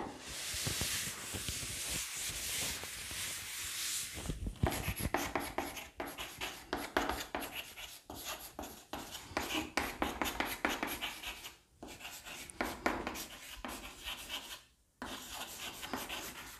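Scratchy rubbing strokes of writing on a board during a chemistry lesson come in uneven bursts with brief pauses, close and fairly clear with no talk over them.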